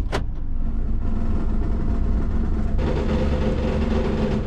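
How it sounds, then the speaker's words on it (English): A car with a loose exhaust heat shield and broken weld idles and is put in gear, a heavy low engine rumble with metallic rattle texture and a brighter shift partway through. "It's like a rattling noise."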